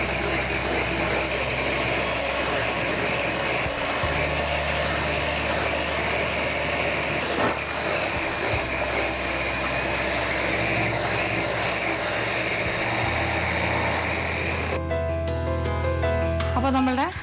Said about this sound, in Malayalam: ഒരു ഹാൻഡ് ബ്ലെൻഡർ ഉപയോഗിച്ച് നമുക്ക് ബീറ്റ് ചെയ്യാം